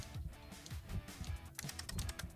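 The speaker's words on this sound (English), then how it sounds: "The typing effects. That's actually pretty cool." Rapid keyboard-style typing sound effects from the video game Cassette Beasts, a quick irregular run of soft clicks played as text appears on screen, quiet and alone.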